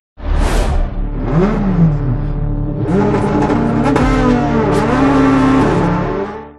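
The intro sound of the video game EA Sports WRC: a rally car engine roars and revs in a loud, continuous sweep after a whooshing start, pitch rising and falling through gear changes.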